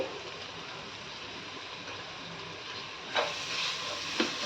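Onion and ginger frying in oil for chicken curry give a steady, soft hiss across the whole stretch, with two brief louder crackles near the end.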